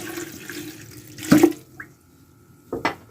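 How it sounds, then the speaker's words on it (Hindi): Water pours into a pot of beef paya with masala, a short gushing splash that swells and fades, followed by a second brief pour, close and loud with no talking. "करीब आधा लीटर इसमें पानी शामिल कर देंगे।"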